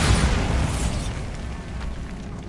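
Bombarda blasting spell going off in Hogwarts Legacy, a single loud explosive burst that decays into a rumbling tail over a couple of seconds, with no talk.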